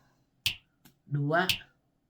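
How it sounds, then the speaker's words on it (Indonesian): Three sharp finger snaps come close together and quite loud, the last one overlapping a rising, moaning vocal sound, in a ghost story set in a haunted house in San Pedro, California. "Tiba-tiba terdengar 3 jentikan jari"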